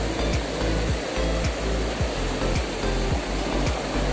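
A village river in flood after days of continuous rain surges past, a loud and unbroken rushing roar with low, recurring thuds that stays close and steady throughout.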